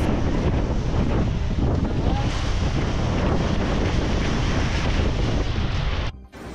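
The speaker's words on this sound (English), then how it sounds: "The typhoon hit central and western Japan with heavy rains and strong winds." Strong typhoon winds in central and western Japan roar and buffet the microphone in a dense, unbroken rush for about six seconds, then drop away abruptly.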